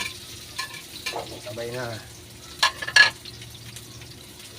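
Chili and onion sautéing in a hot pan while cooking laing with pork, a steady sizzle with stirring scrapes and a few sharper clinks near the end, with brief talk over it.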